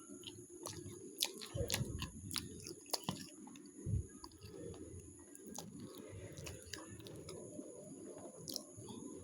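Someone eating roti with curry broth and gnawing a piece of bone, close soft chewing and biting sounds running steadily, with faint birds cooing in the background.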